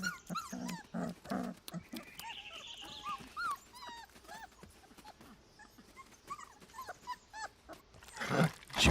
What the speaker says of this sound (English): They smack their lips to beg for food.